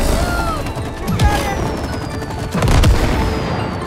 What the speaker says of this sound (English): Combine the sap gun and the match gun to create explosions.